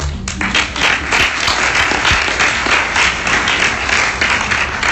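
An audience at a Major Crimes panel at Phoenix ComiCon breaks into loud, dense applause, sustained clapping filling the hall without pause.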